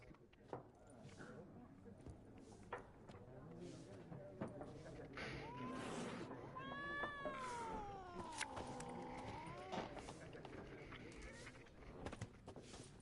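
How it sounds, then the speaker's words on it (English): A cat in The Witcher 3 gives a drawn-out, wavering meow, rising and falling, set against quiet game ambience with faint footsteps and clops. "I don't think that cat likes me."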